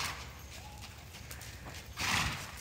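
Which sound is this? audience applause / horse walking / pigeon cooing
horse walking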